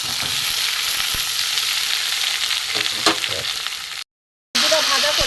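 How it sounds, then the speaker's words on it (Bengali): Potato, green banana, eggplant and papaya frying together in a pan for a vegetarian fig curry give a steady, loud, close sizzle. It runs unbroken, briefly cuts out near the end, then resumes. "সবজি কটা একটু আমি ভালো করে ভেজে নেবো।"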